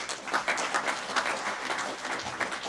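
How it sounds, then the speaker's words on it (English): Short, steady round of applause from the audience at an election information evening on gun laws, welcoming a Liberal Party guest; dense clapping throughout with no talking. "we have Nicola from the Liberal Party, MLC, a round of applause."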